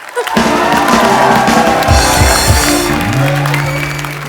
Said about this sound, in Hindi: एक बार काजल जी के लिए जोरदार तालियां